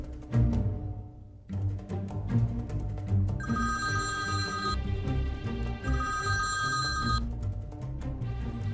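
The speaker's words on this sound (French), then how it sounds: "J'attends avec impatience le coup de fil de Christophe." A landline telephone rings in two long, steady electronic bursts separated by a short pause, clear and moderately near in a quiet room, with no talking over it.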